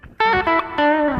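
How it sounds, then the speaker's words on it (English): An electric guitar runs through the space reverb setting of a Line 6 Pod Express modeler, with a few sustained distorted chords ringing out and blooming into a wide, washy tail, loud and close with no talk. "This is space reverb."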